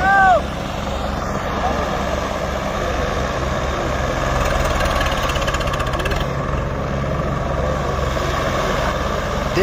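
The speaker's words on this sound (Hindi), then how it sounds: "कितना अच्छा चल रहा ट्रैक्टर" A loud tractor engine rumbles and drones steadily nearby during a field demo, a continuous heavy mechanical roar with a brief whistle-like tone at the start.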